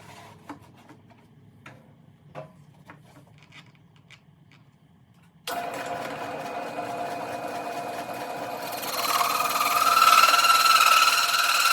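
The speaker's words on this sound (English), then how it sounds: "my circle cutter will go straight through the board in the exact center of the panel" A quiet workshop with faint taps gives way to a sudden steady mechanical whir from a circle cutter, growing louder and harsher as it bites through a wooden cajon panel to cut a sound hole.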